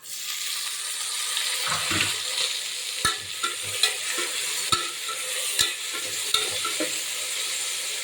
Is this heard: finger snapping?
no